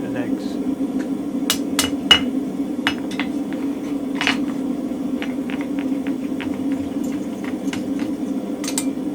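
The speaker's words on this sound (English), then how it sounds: "So to take it out, just hit underneath the anvil" A hammer strikes beneath an anvil to knock loose a mild steel spring fuller, giving a series of sharp metallic clinks and rings at irregular intervals over a steady low workshop drone.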